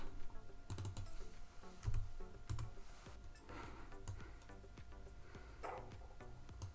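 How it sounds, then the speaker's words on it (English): Typing on a computer keyboard while working in Cricut design software, with quiet scattered key clicks and a few sharper taps that sound close and faint, with no talk. "selecting Shift and the squiggle key on my keyboard"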